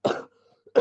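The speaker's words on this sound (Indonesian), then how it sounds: "Maaf ya, sedikit batuk-batuk" Two short bursts of coughing from a nearby person indoors, with a brief quiet gap between them and a faint hum underneath.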